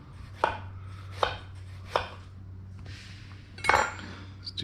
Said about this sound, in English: So I'm just gonna do some thin slices of